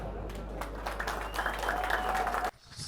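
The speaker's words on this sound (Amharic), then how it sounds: "አሁንም ጭብጨባው ትንሽ የሳሳ ነው፣ ብትደግሙልኝ ደስ ይለኛል።" Audience applause at a live studio event on an Ethiopian entertainment TV show: steady, moderately loud clapping lasting about two and a half seconds before cutting off abruptly, with a voice faintly audible through it.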